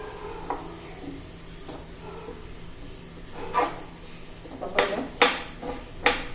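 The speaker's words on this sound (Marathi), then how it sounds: "आता आपण पहिलं कांदा टोमॅटो चिरून घेऊया बारीक बारीक चिरून घ्यायचं आहे आपल्याला" A knife finely chops onion and tomato on a board, with a few scattered taps at first and then sharper, quicker chops toward the end over faint room noise.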